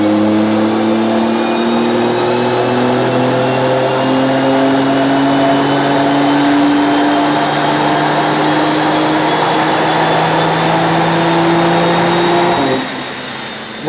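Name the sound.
remapped turbo family car engine revving on dyno run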